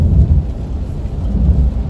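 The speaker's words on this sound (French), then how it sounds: "on est sous la pluie, hein" Steady heavy rain drums loudly and continuously on a Leapmotor B10 car during a wet test drive, a dense wash of noise with no voices.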